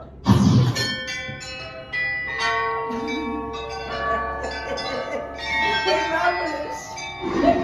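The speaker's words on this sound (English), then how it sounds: "make that bell ring just once" A bell by a doorway rings out in a theme-park kids' show, its bright sustained tones ringing and decaying over several seconds amid crowd noise and background music.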